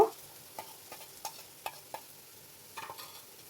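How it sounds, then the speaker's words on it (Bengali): Chopped onions and garlic fry in oil until brown, with a faint low sizzle under a series of sharp spatula taps and scrapes that come irregularly, close by. "একটু বাদামি করে ভেজে নিচ্ছি।"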